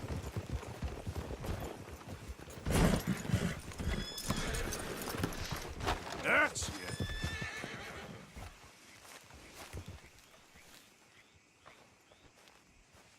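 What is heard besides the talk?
horse hooves and neighing in video game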